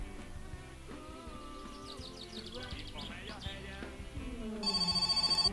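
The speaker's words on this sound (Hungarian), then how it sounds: "Telefon." A telephone rings in the My Summer Car video game, a repeated electronic trill entering near the end over game sounds and a rising tone.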